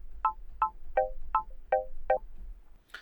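A modulator oscillator in the Arturia Pigments 3 synth, run at audio rate with the wavetable turned down, gives six short evenly spaced harmonic blips with no voices.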